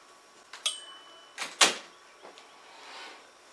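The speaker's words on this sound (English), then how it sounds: "Let me close my door while this TV playing." An indoor door being pushed shut, with a couple of light knocks followed by a solid close thud, heard nearby with no talk.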